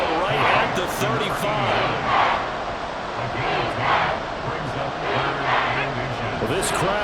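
Crowd noise swells and roars in a Madden NFL 24 football game as fans try to force a false start, with a play-by-play voice talking over the din.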